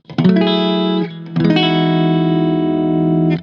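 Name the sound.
electric guitar tone through overdrive pedal as clean boost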